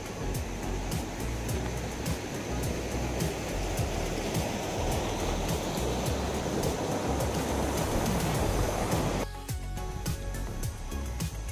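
A waterfall stream on Koh Chang roars close by in a steady, dense rush of falling water, then abruptly drops quieter near the end.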